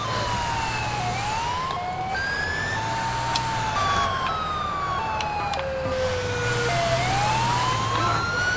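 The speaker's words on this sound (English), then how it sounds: "Those sirens do not sound healthy." Several wailing police sirens in the video game GTA IV rise and fall continuously, overlapping one another loudly over a low engine rumble, with no voices.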